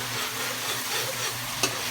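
Grated coconut being stirred slowly into plenty of hot oil to make latik gives a steady, close frying hiss with soft stirring scrapes and one sharper clink near the end, and no voices.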